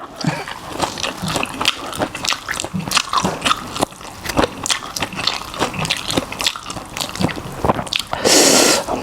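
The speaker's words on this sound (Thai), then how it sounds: "ชับหมูกรอบดีขนาดเลย" Crisp pork in a spicy enoki mushroom salad with Vietnamese pork, squid and prawn is bitten and chewed close up, with repeated crunchy, wet bites and squishy mastication sounds throughout and no talking.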